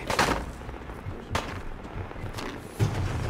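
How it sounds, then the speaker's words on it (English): Intermittent gunshots in modded Fallout 4: a few sharp, moderately loud cracks spaced about a second or more apart over a rumbling background of combat ambience. "Who's shooting now?"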